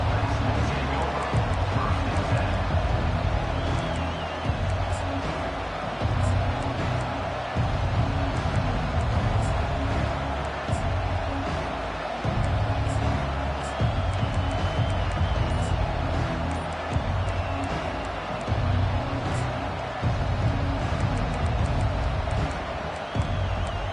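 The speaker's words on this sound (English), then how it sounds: "this home crowd is fired up and ready to make a difference today" A home crowd at an NCAA college football game roars steadily and fills the whole stretch, a dense wall of cheering and stadium babble with occasional whoops rising above it.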